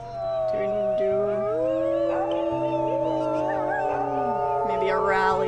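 Wolves howling in the video game WolfQuest, with several long overlapping tonal howls that glide and waver, layered over a steady background drone and continuing throughout.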